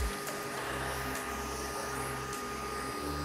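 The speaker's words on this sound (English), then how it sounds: "And yeah, it all goes into the vacuum cleaner." A pet grooming vacuum sucks up shed undercoat with a steady, close whooshing roar and a low hum, with brief changes in pitch as the suction shifts, no voices.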